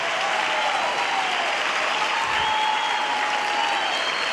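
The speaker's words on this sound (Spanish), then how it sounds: "¡Suene fuerte ese aplauso!" Loud, continuous applause from a large audience fills an opening show at a women's congress, a steady dense roar of clapping with no break and no voices over it.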